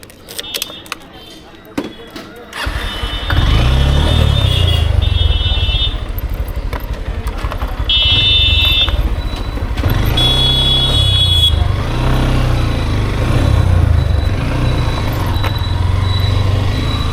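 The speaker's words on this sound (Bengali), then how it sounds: "বাইকটা ঘুরে নি।" A motorcycle starts after a few clicks and knocks, then its engine runs loud and close for the rest of the clip, revving up and settling in steady waves, with brief high whines at times.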